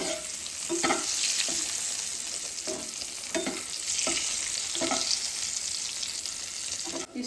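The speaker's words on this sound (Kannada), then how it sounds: "ಸ್ವಲ್ಪ ಮಸಾಲೆ ಹಿಡಿದಿ ಒಂದು ಸ್ವಲ್ಪ ಉಪ್ಪು ಖಾರ ಎಲ್ಲ ಹಿಡಿಯೋವರೆಗೂ ಲೋ ಟು ಮೀಡಿಯಂ ಫ್ಲೇಮ್ನಲ್ಲೇ ಫ್ರೈ ಮಾಡ್ಕೊಳ್ಳೋದು" Boiled eggs fry in masala with salt and chili powder over a low-to-medium flame for egg biryani, giving a steady, close sizzle broken by regular scrapes and clacks of a stirring spoon in the pan. No one speaks.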